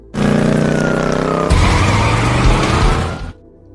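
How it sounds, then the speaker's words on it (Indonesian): A getaway car races away in a film chase, tires skidding loudly with engine roar and a shift in tone midway before cutting off abruptly; no voices. "Denny dan Jojo kabur menggunakan sebuah mobil sehingga Dalton segera mengejar"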